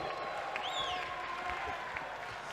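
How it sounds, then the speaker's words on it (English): An arena crowd at an MMA fight night applauds steadily with scattered whistles and cheers. The sustained clapping fills the hall at a moderate distance. "One more round of applause."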